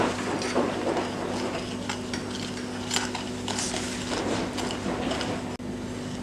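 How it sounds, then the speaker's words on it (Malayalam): Galaxy chocolate being mixed with powdered sugar in a bowl, with a steady scraping and clinking of utensil against the bowl and faint kitchen hum underneath. "ഇനി നമുക്ക് പൗഡർഡ് ഷുഗർ ഇട്ട് കൊടുക്കാം. നന്നായി മിക്സ് ചെയ്യുക."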